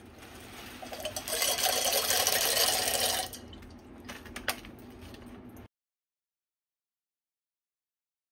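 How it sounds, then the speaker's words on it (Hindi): Dry Maggi macaroni tumbles into a pot of water, giving a bright rushing patter and splashing for a few seconds, then softer drips and trickles before the sound stops abruptly into silence. "ये चलिए जो हमारी मैक्रोनीज है ये हम अपने पानी में ऐड करते हैं।"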